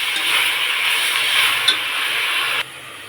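Spinach leaves stir-fried in a pan for palak chicken gravy give a steady, close sizzle with soft scraping from stirring, which drops away sharply near the end.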